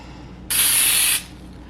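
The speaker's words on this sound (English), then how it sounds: "I'm gonna spray 2 with the Pam" Pam cooking spray hisses from the can onto spoons in a single steady burst of under a second, close and loud.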